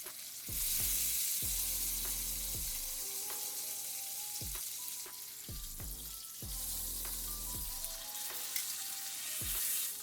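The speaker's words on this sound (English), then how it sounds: "we're going to sear all sides" Pork roast seared on all sides in a hot pan, a steady loud sizzle broken by repeated scraping and pressing knocks as the meat is turned and pressed, with no voices.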